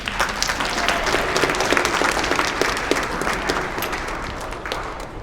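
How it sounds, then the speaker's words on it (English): An audience at an event for Project Áhari claps throughout, dense and loud at first and then slowly thinning out. "give yourself a round of applause for coming out"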